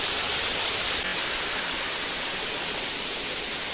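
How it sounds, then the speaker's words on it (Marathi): Waterfall at Nandore Devkhop dam in Palghar, a steady, loud broadband rush of falling water that holds constant throughout with no pauses. "पाण्याचा आवाज बघा किती मस्त इथं"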